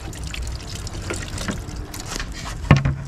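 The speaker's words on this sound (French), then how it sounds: "donc là forcément ça coule hein. Là vous allez perdre tout le liquide." Windscreen washer fluid draining out of a Renault Kangoo reservoir after the pump is unclipped, a steady soft trickle of liquid close by, with a brief louder splash near the end and no talking.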